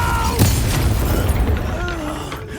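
A Confringo spell blast goes off in Hogwarts Legacy with a sharp boom, then a rumbling, crackling tail mixed with game effects and whooshing tones, fairly loud throughout.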